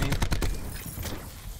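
A rapid burst of close, loud gunshots in Black Ops 4 multiplayer, four or five sharp cracks in quick succession before a brief echoing tail.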